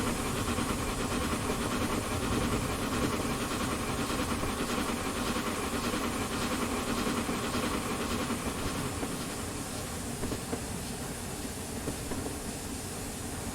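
In Train Simulator Classic with the SSS sound pack, an A4 Pacific steam locomotive rolls along with a steady, loud hiss of steam. Rhythmic wheel clatter and a rumbling roar run unbroken underneath.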